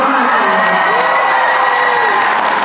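Audience applauding and cheering after an award announcement at the Zenkaikon 2022 cosplay masquerade contest, a steady wash of clapping with scattered whoops, fairly close and continuous throughout.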